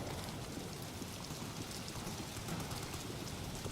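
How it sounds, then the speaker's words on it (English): Steady, dense rainfall from a video game patters continuously at an even level, filling the scene with soft hiss and no talking. "listen to all that immersive rain and gunfire"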